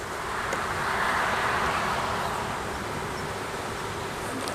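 Honeybees buzz steadily around an open beehive, a dense, continuous hum close by with a slight swell in the middle and a faint background wash.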